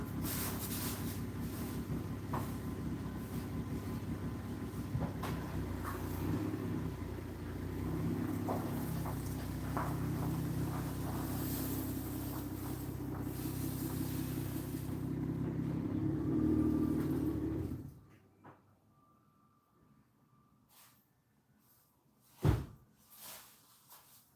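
A long-idle car's engine runs steadily with a low rumble while it backs out of a garage, then cuts off abruptly, leaving near silence broken by a single sharp knock.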